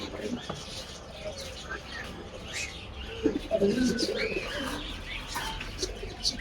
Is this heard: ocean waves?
no